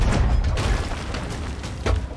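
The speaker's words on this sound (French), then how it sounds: "Je peux essayer un petit coup de canon." A ship's cannon fires in the pirate video game Sea of Thieves, a loud booming blast amid dense rumbling game noise.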